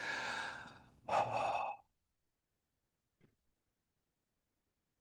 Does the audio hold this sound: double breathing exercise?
yes